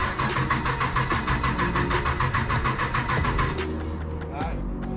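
A 2010-2015 Camaro SS with a Speed Engineering exhaust, its engine running loud and close with a rough, pulsing idle and a brief rev. People talk over the engine noise.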